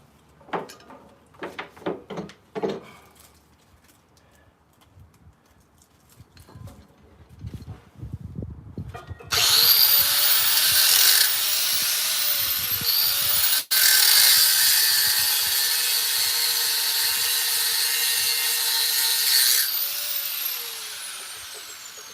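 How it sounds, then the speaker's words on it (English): A high-pitched cutting tool shrieks loudly and steadily through brake tabs on a 1951 wrecker truck, after a stretch of scattered clanks and tool handling, with one brief interruption midway. "I am just going to cut these tabs because"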